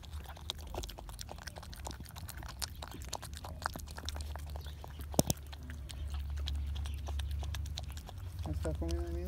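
A one-and-a-half-month-old pitbull puppy eats softened food mixed with water, giving irregular close wet chewing and biting noises over a steady low background, with a person talking at moments.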